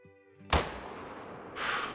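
A single sharp rifle shot fired at a moose 225 yards away while hunting in the game Call of the Wild, a loud crack with a rolling tail, followed by a brief hiss of noise.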